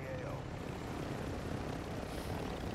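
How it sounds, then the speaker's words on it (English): A helicopter in the Call of Duty Black Ops video game gives a constant, loud rotor and engine rumble close by, with no breaks across the short stretch. "And I can fly on my helicopter."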